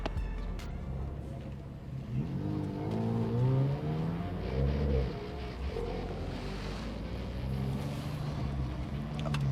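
Car lapping the Nürburgring Nordschleife, its engine droning and rising through gears with steady rumble and shifting harmonic sweeps, fairly loud and continuous throughout with no talk.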